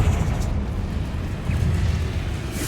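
Fiery blast of the Confringo spell in Hogwarts Legacy, a dense rumbling boom that fills the whole moment with continuous low roar and crackle, loud and close, with no voices.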